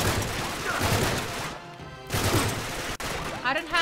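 Bursts of rapid gunfire from a firefight in Uncharted 3: Drake's Deception crackle loudly, broken by a brief lull and a sharp impact, with a voice briefly audible.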